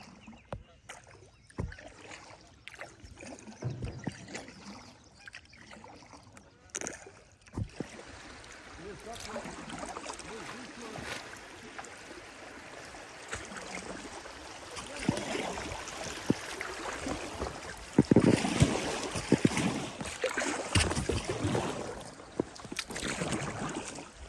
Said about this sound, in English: as you can hear down there, the water, this water is actually fast